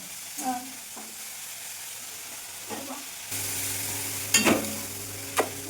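Spices sizzling in oil for a fish curry: quiet clinks and stirring at first, then a steady close sizzle with a few sharp spatula scrapes against the pan.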